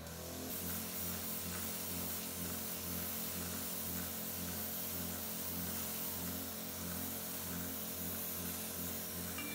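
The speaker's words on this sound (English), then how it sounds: "This is a water spray." A hydrafacial dermabrasion beauty machine sprays water with a steady hiss over a constant low motor hum, unbroken and even in loudness throughout.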